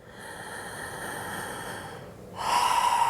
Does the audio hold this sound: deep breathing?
yes